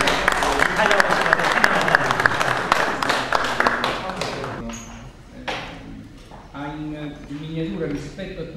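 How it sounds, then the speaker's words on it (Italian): Audience applause at a twinning ceremony between the Province of Salerno and Namyangju, South Korea: dense clapping for about five seconds, then fading into scattered claps under talk. "io direi di dare un applauso"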